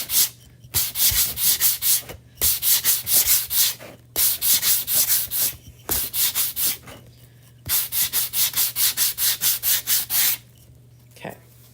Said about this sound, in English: just to sand one down to see what it looks like